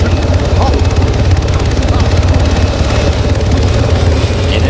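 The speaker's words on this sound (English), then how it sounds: "Get in this helicopter." A helicopter in a military video game lands for extraction with its engines running, giving a loud, steady rotor thump and whine throughout, with a voice speaking over it.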